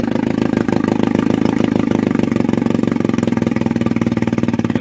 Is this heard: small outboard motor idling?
yes